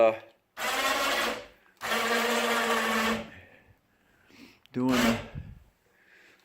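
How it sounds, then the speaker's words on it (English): Electric winch powered from a portable jumper box whines in three bursts of a few seconds each, separated by short pauses, loud and close. "I'm using my shoemaker jumper box to run the winch."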